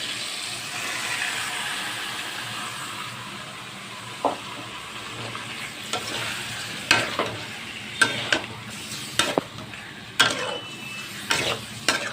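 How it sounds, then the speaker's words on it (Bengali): Onions sizzling in hot oil in a wok, a steady crackling fry with a spatula scraping and clinking against the metal in irregular bursts, close up, with no talking. "পেঁয়াজগুলো ভাজবো।"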